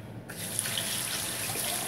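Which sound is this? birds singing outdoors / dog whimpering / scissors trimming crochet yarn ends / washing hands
washing hands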